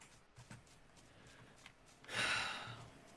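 Heavy panting breath from characters in the horror video game In Silence, a few soft breaths followed by one louder, longer breathy exhale near the end.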